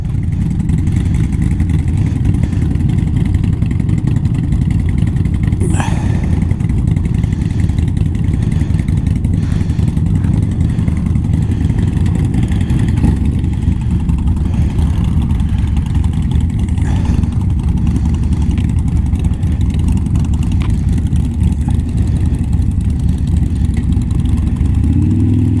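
Motorcycle engines rumble continuously on a road, loud and close, with a couple of sharper passing swells as bikes go by.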